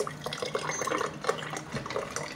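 A tap runs in a steady, close, continuous rush of water with gentle splashing for a couple of seconds, with no other sounds.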